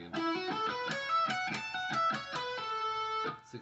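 Electric guitar plays a fast solo run of hammer-ons and pull-offs ending on a held vibrato note, close and clear on its own.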